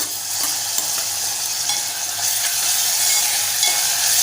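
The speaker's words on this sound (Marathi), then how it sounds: "एक दोन मिनटं आपण परतून घेऊया कांदा आपला हलकासा नरम होत आला आहे" Onion and finely chopped tomato sauté in a pan for a Malvani horsegram flour curry, giving a steady, close sizzle with faint stirring scrapes throughout and no talking.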